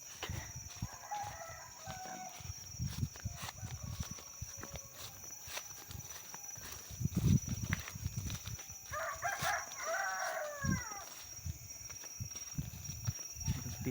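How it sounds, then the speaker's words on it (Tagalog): Roosters crow twice at 4 a.m., somewhat distant, over a steady background hum with scattered shuffling noises. "Titilaok ng mga manok."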